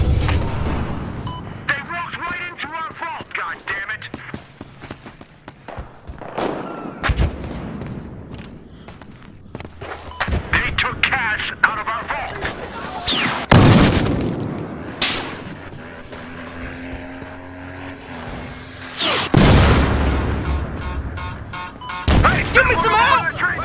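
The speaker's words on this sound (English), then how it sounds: "Here comes the grenade!" A grenade blast in the shooter game Battlefield Hardline, one of several loud booms and bursts of gunfire in a busy firefight, with someone talking excitedly over the action.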